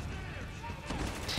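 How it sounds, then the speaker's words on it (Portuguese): Explosions and gunfire in the video game Spec Ops: The Line, heard as a busy rumbling barrage with sharp bursts, continuous under the noise throughout. "Porque eu tô escutando várias explosões."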